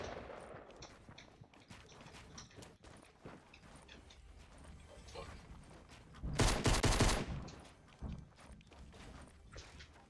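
Assault rifle fire in a shooter game, one loud, sharp burst of rapid shots standing out over quieter background game sounds and footsteps.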